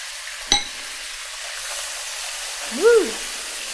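Chicken pieces stir-fry in a hot pan with a continuous sizzling hiss and one sharp utensil clink near the start; a voice gives a short rising whoop near the end.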